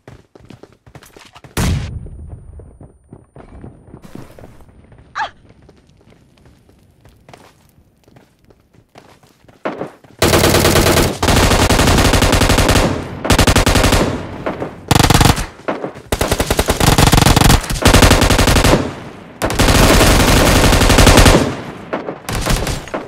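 Shotgun blasts and gunfire in a PUBG Mobile match: a few scattered shots at first, then loud, dense volleys of rapid fire in several long bursts with brief pauses between.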